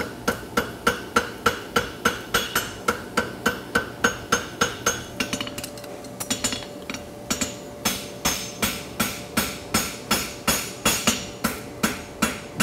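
A farrier hammers a lateral bar horseshoe in sharp, evenly spaced metallic strikes, loud and close, with a brief ringing pause midway before the steady blows resume.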